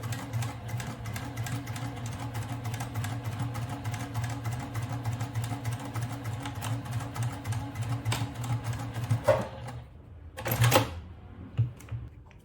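Sewing machine stitching a tote bag with storage pockets, a steady close rapid needle chatter running for about nine seconds, then stopping, followed by a short second burst after a pause.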